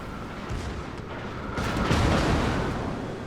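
In World of Warships, enemy submarine torpedoes strike a German Tier-8 battleship with a dull, booming impact that swells midway into a louder, sustained rumbling blast.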